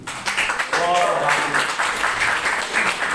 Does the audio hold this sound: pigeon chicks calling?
no